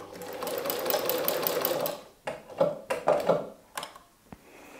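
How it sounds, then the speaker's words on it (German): A sewing machine stitches in place through layers of fabric for a Halloween pumpkin basket, a close, steady mechanical whir for about two seconds. It then gives way to a few scattered clicks and fabric handling. "Den oberen Nahtanfang legen wir unter unsere Nähmaschine."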